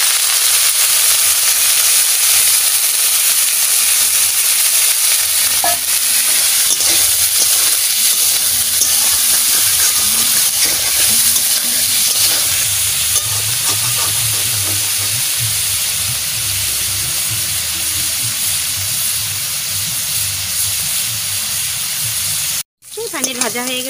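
Homemade paneer frying in a pan for a potato and paneer curry, giving a steady, loud sizzling hiss throughout with a brief dropout near the end; a voice talks over the sizzle.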